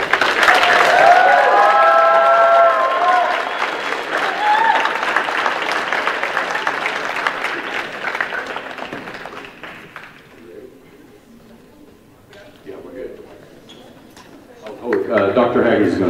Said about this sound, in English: can we get one more loud applause for all these things?